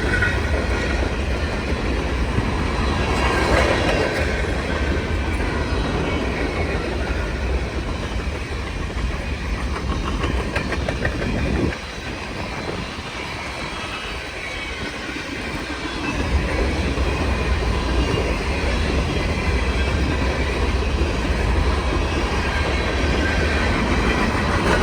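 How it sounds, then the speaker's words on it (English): A CN freight train carrying military equipment rolls past close by, a continuous rumble with clickety-clack of wheels over rail joints that dips briefly mid-pass and then resumes at full strength. "These military vehicles on the trains are really more interesting compared to the regular freight cars."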